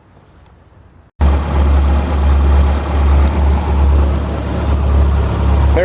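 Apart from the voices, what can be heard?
Volvo 740 B230F engine idling, MagnaFlow rear muffler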